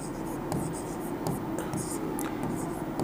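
A pen scratches on paper in short strokes and pauses as maths notes are written. Soft speech runs underneath.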